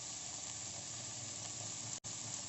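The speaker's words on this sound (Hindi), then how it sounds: "इसी तेल में गोभी को डाल देंगे, शैलो फ्राई कर लेंगे।" Cauliflower shallow frying in oil in a pan, a steady soft sizzle and hiss that runs on evenly, faint and alone, with one abrupt brief dropout.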